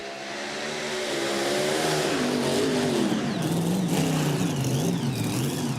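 A pulling tractor roars through a tractor pull run at an event track, the engine revving hard and loud with pitch wavering up and down as it strains, continuous throughout.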